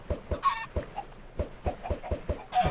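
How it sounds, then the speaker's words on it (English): Rapid Minecraft chicken clucks repeat in a steady, bouncy rhythm, with a few higher squawks mixed in, close and fairly clear against a quiet background. "We just wanted more chickens in there."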